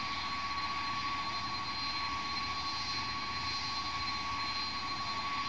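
Douglas DC-10 jet engines in the Flight Simulator X game give a steady, loud, even roar with a whining tone held across the whole stretch, and no voices are heard.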